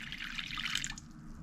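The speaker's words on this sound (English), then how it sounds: "I'm gonna put some water and then put it to the oven." Water being poured from a container onto chicken meat in a pan, a steady bright splashing trickle for about a second that then tapers to quiet.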